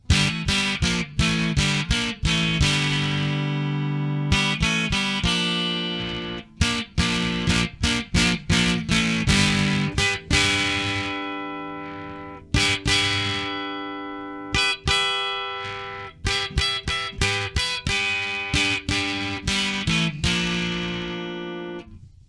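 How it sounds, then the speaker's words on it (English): Distorted electric guitar, a Strat-style guitar with EMG 7K passive single-coil pickups, plays a run of picked notes and chords, loud and gritty with sustained ringing tones and brief pauses between phrases. "I am going to add a little bit of the distortion."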